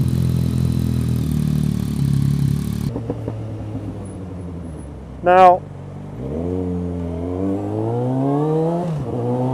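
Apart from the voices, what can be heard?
motorcycle with aftermarket exhaust revving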